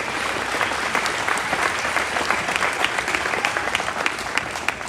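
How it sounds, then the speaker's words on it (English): Spectators at a livestock show's grand champion market steer drive give a loud, sustained round of applause for the young exhibitors, dense even clapping from a large crowd throughout. "please join me in a huge round of applause for these young people"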